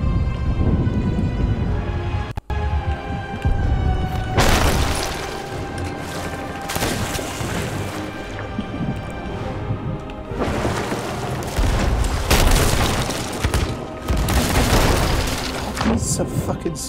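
Ship cannon fire and heavy booms during an intense Hourglass sea battle in Sea of Thieves, repeated loud blasts and crashes layered with gunfire, with players talking throughout.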